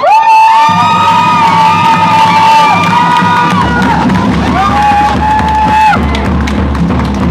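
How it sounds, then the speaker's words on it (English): A rally crowd roars with cheers, whoops and applause as the next speaker is welcomed at an outdoor Free Palestine rally, loud and sustained throughout with shrill individual shouts rising above the mass. "just from the cheer and round of applause"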